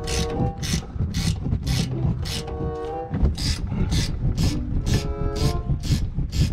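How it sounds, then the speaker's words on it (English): Repeated ratcheting wrench strokes loosening 18 mm top strut nuts on a Chevy Colorado ZR2, a close, steady rasping click pattern pulsing roughly twice per second over faint background sound. "I'm gonna use a ratcheting wrench to get to them."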